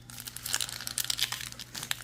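Foil booster packs of Surging Sparks Pokemon cards are torn open: close, crisp crinkling and ripping of wrapper in quick irregular bursts over a faint steady hum, with no speech.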